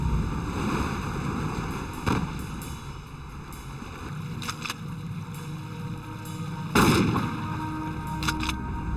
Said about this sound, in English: sink the cooler by firing slugs into it